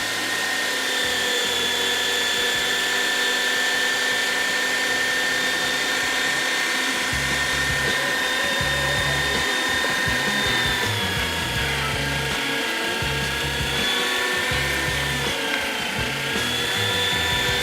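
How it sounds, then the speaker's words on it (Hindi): Electric mincing machine grinding half a kilo of onion, one kilo of ground beef, chilies, ginger and coriander, a loud steady motor whine running continuously with rhythmic low chugging as the load passes through. "और पिसाई के लिए मशीन की ऑन।"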